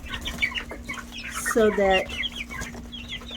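Chickens cluck and squawk as they are reunited inside a coop over food, with a louder burst of calls in the middle and a steady low hum beneath, while a person talks briefly.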